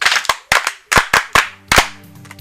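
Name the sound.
class clapping for a girl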